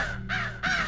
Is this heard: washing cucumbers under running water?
no